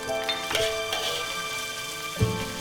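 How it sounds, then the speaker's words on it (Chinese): Dried chilies and pork belly mince stir-frying over high heat in a wok, a steady hiss of sizzling oil with a few sharper spatula scrapes and knocks. "下干辣椒继续炒"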